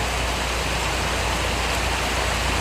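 Steady, heavy rainfall hisses as a thick, even roar with no breaks, close and loud over the whole short stretch, no voices present.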